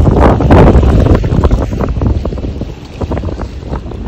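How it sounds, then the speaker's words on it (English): Strong wind blows across a muddy beach, gusting and buffeting the microphone in rough, uneven surges with no speech. "Sorry, the wind. I'm trying to block it."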